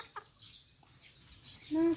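A bantam chicken feeding on termites gives soft, scattered clucks close by, ending in a louder drawn-out call, with no speech.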